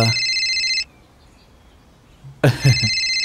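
A mobile phone ringtone plays a bright electronic melody from a phone lying on the ground, stops after a brief pause, then resumes loudly.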